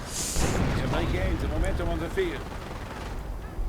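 Artillery fire in a World War II real-time strategy match, with muffled blasts and crackling gunfire rumbling continuously as a game soundtrack, while a commentator talks over it throughout.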